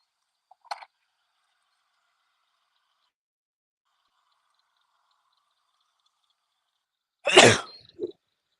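A single sharp sneeze bursts out after a long near-silence, followed by a brief murmur; a faint small noise sounds earlier.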